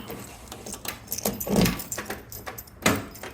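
Car keys for a 1972 Cutlass jangle and clink repeatedly, close by, with brief metallic rattles and soft handling noises in between.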